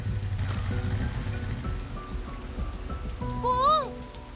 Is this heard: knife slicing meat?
no